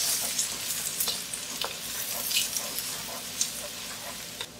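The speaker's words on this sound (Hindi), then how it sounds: "उसी ऑयल में डालेंगे जिंजर, गार्लिक, सॉटे करेंगे" Ginger and garlic sautéing in a little oil for General Tso's chicken, a steady soft sizzle with faint stirring scrapes, moderately quiet and alone.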